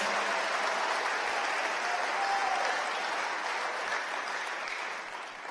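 A church congregation claps together in steady, dense applause throughout a worship service, loud and continuous before tapering slightly toward the end.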